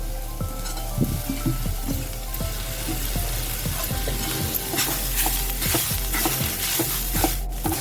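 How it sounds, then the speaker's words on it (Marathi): Onion and fresh grated coconut roast in a little oil in a pan, a continuous close sizzle broken by frequent scraping stirs and clinks of the spoon, with no talking. "मी आता त्याच्यात ओला खोबरा टाकतोय कांद्याबरोबर भाजलं मग बरा भाजता"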